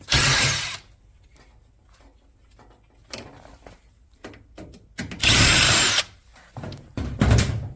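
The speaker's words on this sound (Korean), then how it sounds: "이 나사 두 개를 풀고요" Screws come out of the top cover of a small LG front-loading drum washer under 9 kg. Two loud bursts of power-driver whirring are separated by scattered clicks and handling knocks, all close up.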